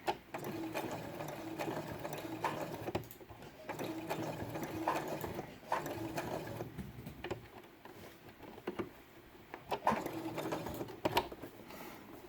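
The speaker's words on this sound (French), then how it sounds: "je couds au point droit dessus." A sewing machine runs a straight stitch through felt, steady whirring bursts that pause briefly and restart a few times, close and fairly quiet with no voices.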